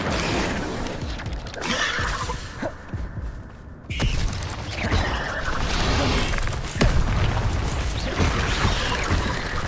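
Incendio fire spells cast in Hogwarts Legacy, dense booming blasts, whooshes and crashing impacts in a continuous loud stream of game combat sound.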